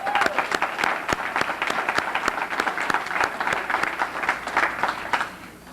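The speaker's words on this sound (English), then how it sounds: "Let's give him a round of applause." An awards-ceremony audience gives a round of applause, a dense patter of many hands punctuated by sharp individual claps, steady for several seconds before tapering at the end.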